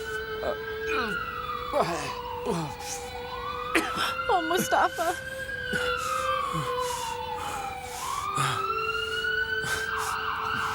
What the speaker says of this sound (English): The ambulance is on the way.